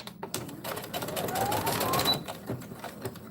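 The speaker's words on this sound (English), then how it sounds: "Let me back stitch here for a minute." A sewing machine back stitching on a beach bag, a close, rapid mechanical chatter that runs continuously for a few seconds and then slows and stops, with a voice speaking faintly in the background.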